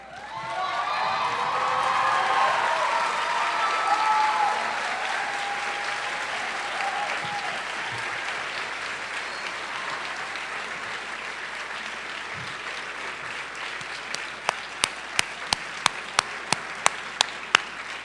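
Graduates at a high school graduation ceremony stand and applaud their families, a loud, sustained wash of clapping from a large crowd that swells early, then gradually thins and fades to scattered sharp claps near the end.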